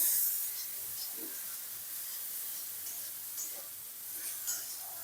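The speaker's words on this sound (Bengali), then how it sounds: "দিয়ে আমি সুন্দর করে মশলাটা ভেজে নেব" Chili and cumin powder masala frying in a pan, a steady soft hiss and sizzle running throughout with faint scraping touches, close and fairly quiet.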